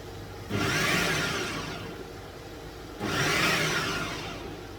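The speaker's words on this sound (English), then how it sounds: "Blending the pepper." A countertop blender grinds pepper for a homemade farm sauce in two loud whirring bursts of about two seconds each, separated by a lower idling hum, close and steady.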